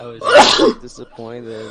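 A sneeze bursts out loudly near the start, a single sharp blast amid ongoing conversation, with voices talking right after it.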